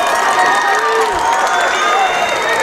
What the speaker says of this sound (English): this defense is imploring the visiting crowd to try to make some noise